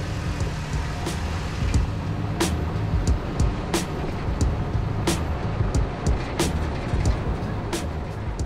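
A Toyota Tacoma truck with re-tuned shocks drives off-road, making a rough rumbling engine and tire noise with intermittent sharp rattles and knocks from the rough surface.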